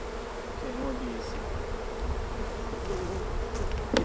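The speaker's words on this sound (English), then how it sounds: "Okay, more bees." Honey bees buzz around hive frames during a honey harvest with queen excluders being removed, a steady, fairly soft drone with individual bees passing close, and a few faint knocks of handling.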